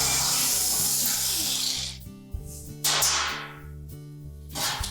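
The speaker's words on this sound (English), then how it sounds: "next we'll remove the 1/4-inch hex head screws that secure those tabs to the back of that" A power driver spins out 1/4-inch hex head screws holding bracket tabs to the back of a Frigidaire range top, a steady close whirring for two seconds, then a few short bursts with brief pauses.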